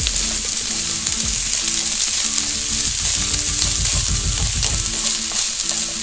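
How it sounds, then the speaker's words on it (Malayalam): Steady loud sizzle of ingredients sautéing in a hot pan until they start to colour, with a dense continuous frying hiss and occasional scraping stirs underneath. "ഇനി ഇത് ചെറുതായിട്ടൊന്ന് കളർ മാറി വരുന്നത് വരെ നമുക്കൊന്ന് വഴറ്റി കൊടുക്കണം."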